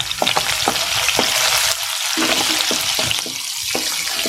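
Chopped garlic and green chilies sizzle and fry in hot chicken oil in a pan, a loud close crackle broken by sharp scrapes and taps of a stirring spoon.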